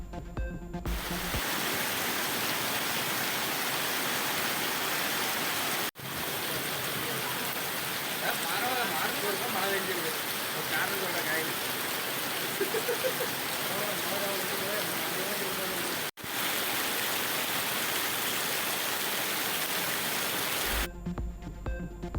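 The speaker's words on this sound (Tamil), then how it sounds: "தமிழகத்தின் பல்வேறு மாவட்டங்களில் இடி மின்னலுடன் பெய்த கனமழை." Heavy rain pours across districts of Tamil Nadu during a summer storm, a dense, steady hiss of downpour running almost unbroken, with faint voices beneath; no distinct thunderclap stands out.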